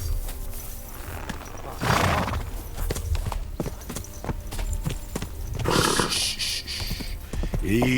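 Horse hooves clip-clop in Kingdom Come: Deliverance II, a steady walking rhythm of close hoofbeats with game ambience and a brief snort or whinny, no talking.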